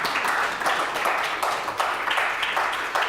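Audience applause at a coffee house session, a steady wash of clapping that rises and dips in waves, close and fairly loud with no talking over it.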